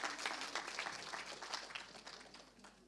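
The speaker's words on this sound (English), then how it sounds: "a big round of applause for" An audience applauds after a film screening at a commemoration event for the East Japan earthquake and tsunami, a dense, even burst of many hands clapping that slowly tapers off over a few seconds.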